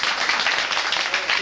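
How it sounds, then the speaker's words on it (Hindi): Audience applause at a Geeta society gathering, steady dense clapping from a crowd filling the moment evenly and fairly loud, with no talk over it. "तालियां बजाई जाएं"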